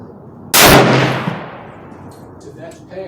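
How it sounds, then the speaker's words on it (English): A Tikka T3X Lite rifle fires a single loud, close shot of Federal Fusion 180 grain ammunition, its sharp crack followed by a long reverberant decay fading over a couple of seconds. "Second shot."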